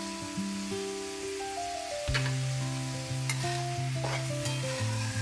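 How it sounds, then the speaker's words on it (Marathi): Carrots and peas sautéing in a pan for a vegetable pulao, a soft continuous sizzle running under background music, with a few sharp utensil clicks. "या सगळ्या भाज्या छान परतून घेऊ."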